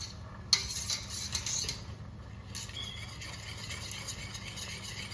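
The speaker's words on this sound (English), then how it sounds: "Get my whisk. Mix that on up." A metal whisk mixes sauce in a pan, making a sharp initial clank followed by repeated light scraping and clinking against the pan, fairly close and quiet.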